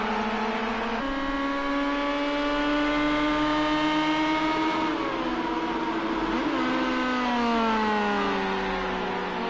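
Race cars in a sim racing game at the Nürburgring Müllenbach circuit whine loudly and continuously, engine pitch rising and falling through gear changes near the last corner.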